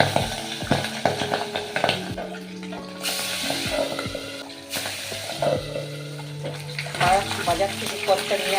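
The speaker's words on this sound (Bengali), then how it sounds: "যেহেতু পার্শে মাছ একটু ফোটে তাই জন্য আমি এটা আঁচটা কমিয়ে মাছটাকে ছাড়বো।" Pabda fish frying in mustard oil in an iron wok over lowered heat, a steady close sizzle with bursts of spattering and scraping stirs, accompanied by a few clinking tones and faint background noise.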